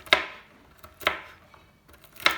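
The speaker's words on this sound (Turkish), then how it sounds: "Bunları bıçakla iyi kıyım yapıp elmalarıma ilave edeceğim." Knife chopping a handful of shelled walnuts on a board for an apple walnut tart, three sharp, distinct chops spaced about a second apart, close and fairly loud with quiet gaps between.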